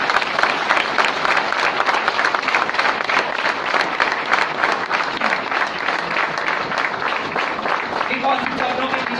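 Audience at a large motivational seminar clapping loudly and continuously, a dense fast rhythm of many hands filling the hall, close and sustained throughout.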